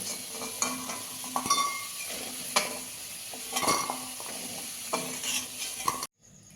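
Potatoes fried red-brown are scooped out of hot oil, a quiet ongoing sizzle broken by several light scraping and clinking touches of a utensil, close and soft, ending abruptly.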